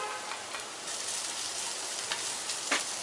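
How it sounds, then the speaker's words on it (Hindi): Finely chopped onion fries in a pan over medium-high heat for a Paneer 65 dish, a close, steady sizzle with a few brief stirring scrapes and no voices. "मीडियम टू तेज आंच पे प्याज को भी भून लेते हैं।"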